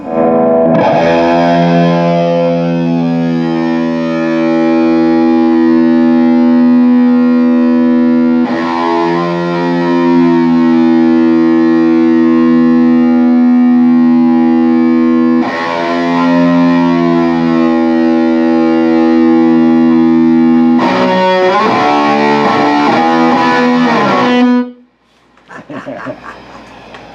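High-gain distorted electric guitar through an Orange amp, played in a heavy style: four long, loud power chords ring out and sustain one after another before cutting off sharply at the end.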